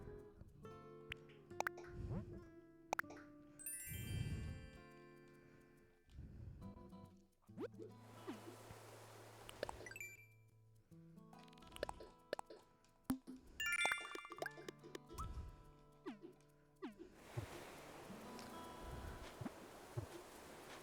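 Phone-opening chimes in the video game Animal Crossing, triggered over and over: bright plopping and dinging blips with tinkly tones that come in quick bursts and repeat across the stretch, with no talking.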